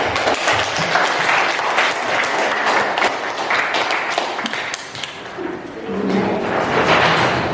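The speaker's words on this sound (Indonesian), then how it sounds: "mari kita beri tepuk tangan" Classroom applause for a student group presenting in a Grade 12 biology lesson on gametogenesis, steady loud clapping from many hands filling the room, continuous throughout.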